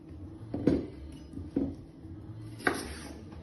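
A knife chopping carrots into chunks for a vegetable stew gives three distinct, fairly close thumps on a board, spaced about a second apart, over quiet kitchen background.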